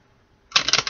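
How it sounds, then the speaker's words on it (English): Tarot cards shuffled by hand in a quick, close riffle: a sudden dense burst of crisp rapid flutters, loud and alone after a near-silent start. "Let's do one more shuffle here."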